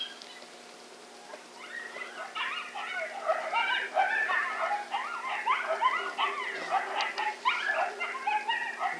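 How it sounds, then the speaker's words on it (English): A wounded coyote struck by a rifle shot during a night hunt yelps and whimpers continuously in a rapid, shrill, irregular series, moderately distant and persistent throughout. "I hit that dog."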